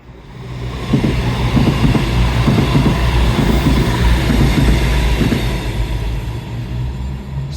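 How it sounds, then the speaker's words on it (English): A train rolls past nearby near Quay Beach, its rumble swelling in after a second and holding steady with rhythmic clattering wheels and a low drone, gradually easing toward the end, with no voices. "Certainly a lot of trains today."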